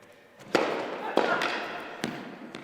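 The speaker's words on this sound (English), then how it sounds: "There's the booming serve again." Tennis serves struck during a UK Pro League men's semi-final, with sharp racket impacts ringing out at intervals over a steady bed of crowd and court ambience.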